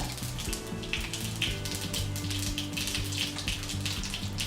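Mustard seeds and a pinch of asafoetida sizzle in hot oil for a simple rasam, a steady close crackle with quick popping bursts over a low background hum.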